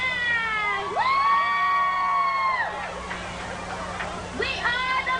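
Spectators at a 1999 high school football game between Jefferson and South Gate cheer for the Rams with high, sustained shouts and whoops, swelling loudly, fading, then rising again in a shorter burst.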